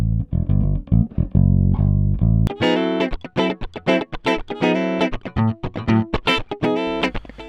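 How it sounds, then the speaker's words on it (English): Bass and electric guitar played directly through a Red-Eye instrument preamp: a sustained deep bass line gives way to bright, driven electric guitar chords and plucked notes in rhythmic bursts, close and loud with no voices. "let's listen to some bass and electric guitar into the preamp"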